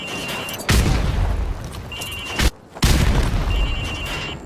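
Grenade explosions in Modern Warfare, thrown into windows on a demolitions training range: two or three heavy booming blasts in quick succession, each followed by debris rumble, loud and close.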